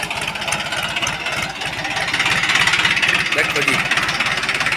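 A Mahindra tractor engine runs nearby with a steady low chugging pulse, while someone speaks over it.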